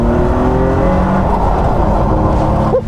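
The engine of a Jaguar XJ220 race car, a racing example once run in America, drones loud and close in a steady, continuous roar with a slight rise in pitch near the end.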